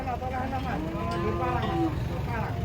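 A big Boyolali cow gives a long, loud, wavering moo close by at a livestock unloading, over a steady background rumble with faint voices.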